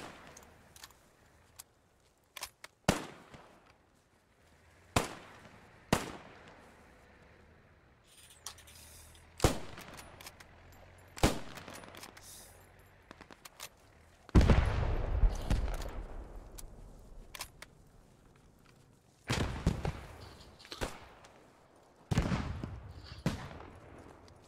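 Gunfire in the World War II shooter Post Scriptum during a fight to retake Sainte-Mère-Église: scattered single rifle cracks near and far with echoing tails, plus a louder, longer burst in the middle, over a quiet background.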